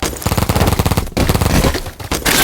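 Rapid automatic gunfire from the Roblox game Big Paintball rattles in dense, loud bursts with a brief gap between volleys.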